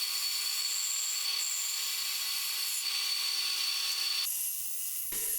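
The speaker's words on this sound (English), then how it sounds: "then I cut those individual segments at the bandsaw" A bandsaw cuts ring segments from scrap oak with a steady, bright whine that runs continuously. Near the end the blade note shifts as the cut changes, and then it stops abruptly. No one talks.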